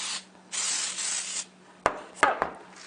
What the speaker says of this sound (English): I'm using the cake pan spray, which is an oil and a flour